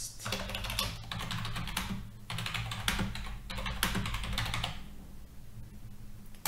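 Steady typing on a computer keyboard, close and continuous, a rapid patter of key presses with a few brief pauses, over a low background hum.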